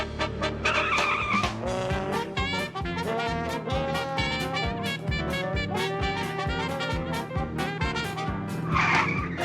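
A car chase from the Muppet TV show Dog City, with tires squealing and skidding over a busy, loud mix of engine noise and dramatic music that runs the whole time.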